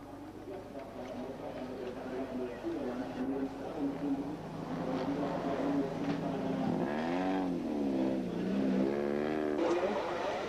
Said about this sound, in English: Make number 10, the Suzuki of the Zimmermans, looking a little short of ground clearance